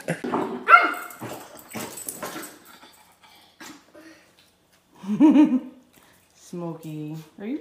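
A dog gives a few sharp barks and yips with whimpering between them, close by, mixed with a person's voice.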